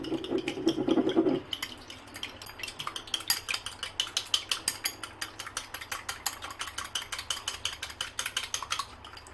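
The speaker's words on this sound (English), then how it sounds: "Whisk, whisk, whisk." A single egg with a pinch of dill is whisked in a bowl for an omelette. Rapid, even clicking of a utensil against the bowl goes on close up for several seconds after a short louder opening sound.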